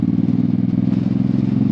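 Suzuki Boulevard M109R motorcycle with an aftermarket exhaust idling nearby, a loud, steady, low throbbing rumble with a rapid even pulse throughout.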